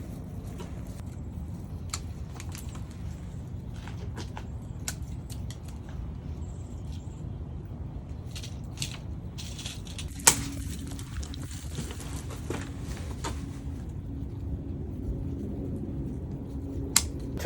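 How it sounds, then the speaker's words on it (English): Shears clip juniper bonsai branches, a rough first cut on a San Jose or Prostrata juniper garden shrub, giving sparse, quiet snips scattered over a low steady background hum. "I'm not going to clip all of it because I can always clip it later, but just get a rough shape"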